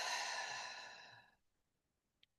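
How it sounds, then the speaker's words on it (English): A single audible exhale, breathy and soft, during a guided breathing exercise, fading out over about a second and a half, then near silence with one tiny click. "Exhale."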